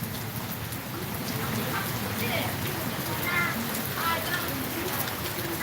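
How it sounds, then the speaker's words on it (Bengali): Heavy rain pours steadily outdoors beside a home garden, a dense continuous hiss throughout with voices talking over it. "জোরে বৃষ্টি পড়তেছে"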